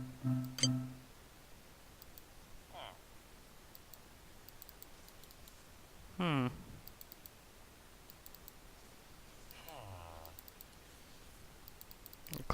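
Mouse clicks while playing Minecraft: a few faint, sparse taps spread across the stretch, mixed with brief tonal game sounds and low background hiss, with no clear talking.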